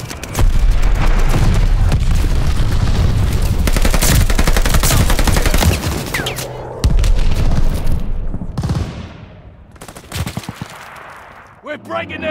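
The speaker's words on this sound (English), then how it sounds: "Heads up, enemy glide bomb coming in hot." Dense automatic gunfire and booming blasts from an enemy glide bomb attack in Call of Duty: Vanguard multiplayer, loud and continuous, with a voice calling out over the chaos before the din thins into scattered shots.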